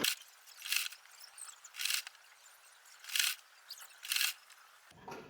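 Short bursts of a sewing machine stitching fabric come in four quick, quiet runs separated by pauses, each a brief whirring rattle, followed by a faint click at the end.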